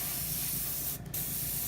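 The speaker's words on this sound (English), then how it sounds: "I'm going to go ahead and spray this blue on here first" Blue paint sprayed onto a wall in a steady, close, continuous hiss that runs throughout, broken by one brief dip near the middle.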